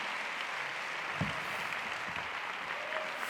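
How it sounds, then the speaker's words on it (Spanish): An audience at a Spanish magic show gives steady, continuous applause, a dense wash of clapping heard evenly throughout at moderate volume. "Un fuerte aplauso para ella."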